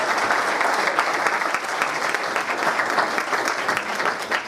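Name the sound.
applause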